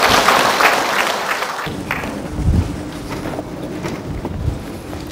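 Large audience at a talk on childhood ADHD gives a welcoming round of applause for a Korean medicine clinic director, loud and dense at first, easing slightly midway with a few thuds, then continuing steadily to the end.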